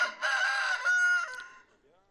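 A rooster belts out one loud, close cock-a-doodle-doo crow, a bright wavering call lasting under two seconds before fading out.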